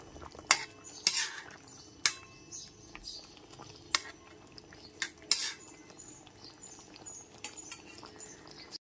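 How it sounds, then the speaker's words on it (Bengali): A spoon stirs chopped coriander through a pabda fish curry with potato and aubergine in a metal pot, giving light scattered clinks and scrapes against the pan, soft and close. "ধনেপাতা কুচিটা খুব ভালো মতো একবার ঝোলের সাথে মিশিয়ে নিচ্ছি।"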